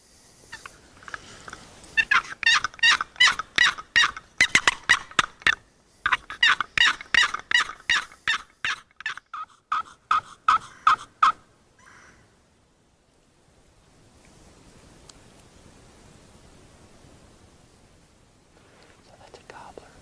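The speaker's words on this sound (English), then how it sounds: "So that's a gobbler with a head and a jig." A wild turkey gobbler in west central Wisconsin in spring, gobbling in loud rapid rattling bursts, two long runs of pulses close by, then quiet with faint rustling.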